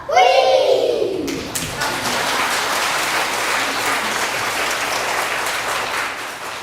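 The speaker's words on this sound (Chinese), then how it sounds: "咱搁一摆用鼓励的掌声来鼓励咱的囡仔" Children's singing ends and a church congregation at a Taiwanese-language Sunday service breaks into warm, sustained applause for them, many hands clapping together in a dense, steady roar that carries on to the end of the clip.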